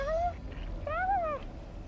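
Two clear meows from a cat in the Genshin Impact video game, close and distinct. The first is short and the second longer, with a rising-falling pitch. No one speaks.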